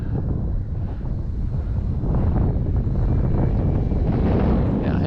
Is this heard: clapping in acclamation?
no